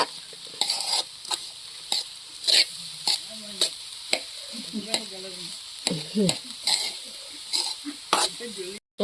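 Rice flour puttu being stirred with sweetener in a pan, with repeated scraping, scratching strokes of a spoon against the pan in an uneven rhythm and a faint sizzle in between, heard up close.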